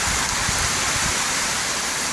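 Heavy downpour during a storm in the Philippines roars in an unbroken wash of hiss, loud and near, with faint low splashing underneath and no voices.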